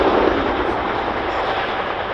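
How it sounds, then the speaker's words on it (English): A large military helicopter flies a display at the RAF Cosford Airshow, a loud, steady broadband roar with low rotor thumping that holds throughout at close range. "What you see today really demonstrates how manoeuvrable this extremely large helicopter is."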